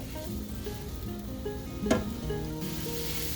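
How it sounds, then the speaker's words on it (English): A quiet, steady sizzle of sausage frying in a pan continues throughout, with faint background tones and one brief louder clatter near the middle. "While I am frying my sausage"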